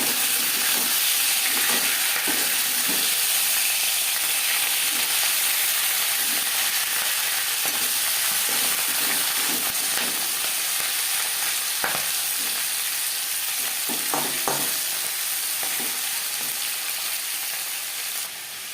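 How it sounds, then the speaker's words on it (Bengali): Turned fish heads keep frying in hot oil in a wok, giving a continuous loud hissing sizzle nearby, with occasional soft clicks and spatter pops and no voices. "একটা সাইড ভাজা হয়ে গেলে অপর সাইডটা উল্টে দেবো।"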